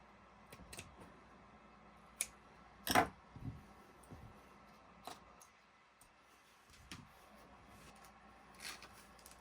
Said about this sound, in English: And then I'll cut that right in half.